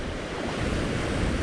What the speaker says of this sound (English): Wow, that wind's getting up now.